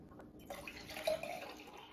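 Water pours into a jar holding heirloom tomato seeds for rinsing. It makes a short, faint trickle and splash up close, with no voices.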